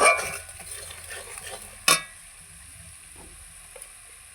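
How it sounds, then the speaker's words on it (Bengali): Turmeric, chilli and cumin powders sauté in oil over a village clay stove, giving a soft low sizzle with a sharp clank of a utensil partway through and another at the end, with a dog barking faintly. "ভালো করে কষাতে হবে তেল ছাড়ছে আস্তে আস্তে"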